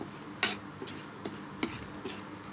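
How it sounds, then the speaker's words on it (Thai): Jaew sauce is stir-fried in a pot, with a quiet sizzle and a few sharp scrapes and clinks of a utensil against the pot spaced across the moment. "เอาแจ่วเสสวนมาแล้วก็เอามาใส่หม้อแล้วก็คั่วคล้นไปคล้นมานี่แหละ"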